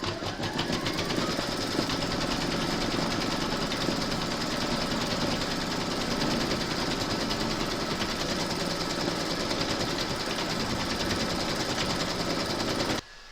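An embroidery machine in its hoop stitches the second round of a large applique gnome, a fast, even mechanical chatter that stays close and unbroken until it stops abruptly at the very end.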